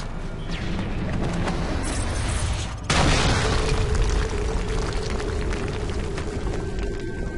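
Grenade detonation during a Call of Duty: Modern Warfare 3 campaign mission, a sudden heavy boom followed by a long, dense roar of debris and rumble that stays loud to the end.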